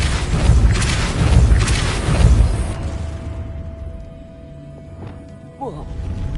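A Depulso force spell going off in Hogwarts Legacy, a heavy rumbling blast with crashing debris that fades over a few seconds into a quieter hum, followed by a small sharp pop near the end.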